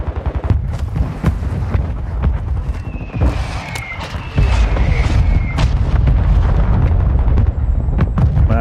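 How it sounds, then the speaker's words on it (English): Mortar strike explosions in the Modern Warfare II game, loud, rumbling booms and sharp blasts following one another amid continuous gunfire and a dense battle din. "Friendly mortar strike inbound."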